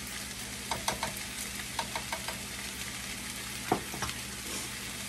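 Garlic sizzles steadily in a pan while a utensil stirs it, scraping and tapping against the metal in short bursts over a constant frying hiss and low background hum.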